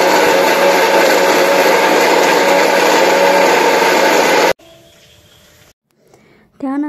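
A mixer grinder whirs loudly and steadily for about four and a half seconds as it grinds roasted onion, coconut, mint and garlic into paste. It then cuts off, leaving a quieter kitchen hum and a brief voice.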